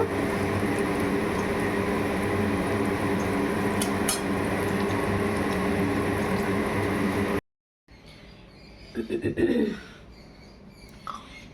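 Steady, loud sizzling of food frying in plenty of hot oil during home cooking of a pointed-gourd curry, hissing evenly for several seconds before cutting off into faint kitchen clatter.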